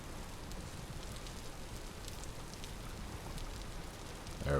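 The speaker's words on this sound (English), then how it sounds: "Or no, is that just the rain?" Steady rain falling in the video game Vintage Story, a soft even hiss with scattered faint drop ticks throughout, no voices, and a brief louder burst right at the end.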